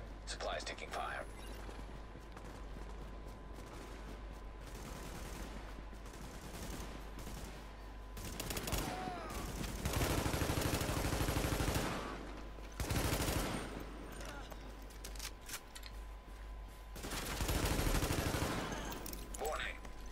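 Gunfire in the video game Tom Clancy's The Division during a side mission: a quieter stretch gives way to repeated rattling bursts of automatic shots, several loud volleys separated by short pauses.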